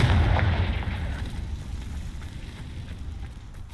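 A Confringo fire spell explodes in Hogwarts Legacy with a loud, deep, booming blast up close, its rumble slowly fading over several seconds.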